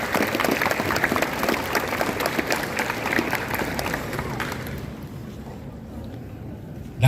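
Applause from an audience at a school orientation event, a steady wash of many hands clapping for several seconds before fading into quiet room noise.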